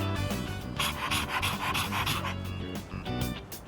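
A dog pants rapidly and steadily in Persona 3 Reload, the quick breathy huffs loud and close, with a brief sniff-like snort, alone without talk.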